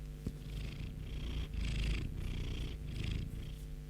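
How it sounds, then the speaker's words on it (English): A house cat purrs close by, a soft rumbling purr rising and falling in steady breaths with no talking. "My cat's here."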